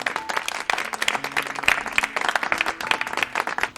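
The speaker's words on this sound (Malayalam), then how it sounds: "എല്ലാവരുടെയും പേരിൽ ഒരു വലിയ ക്ലാപ്പ്" An audience at a children's television quiz show applauds the competing teams, dense continuous clapping that fills the room for a few seconds.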